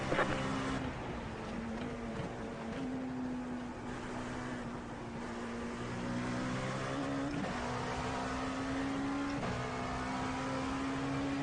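Sim race car engine in iRacing at Sebring, a steady droning engine note with gear shifts, and engine pitch dips and rises throughout, no talk.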